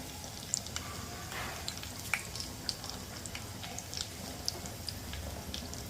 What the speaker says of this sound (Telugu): కొంచెం ధనియాలు ఎగినాయి, ఆవాలు ఎగినాయి.